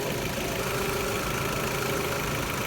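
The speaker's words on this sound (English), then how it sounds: "So now the compressor is working at full capacity." A compressor with an electronic valve runs at full capacity, giving a dense, steady mechanical hum with a constant low drone, close and unchanging.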